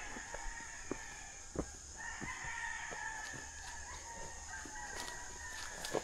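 Chickens clucking with a rooster crowing a few times, fairly faint and some way off, on a hillside during a mountain trek, with no talk over it.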